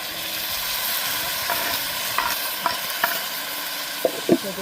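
Onions sauté in a pan for tomato rice, giving a continuous loud sizzle joined by a few sharp spatula scrapes and knocks that bunch up near the end, with no talking.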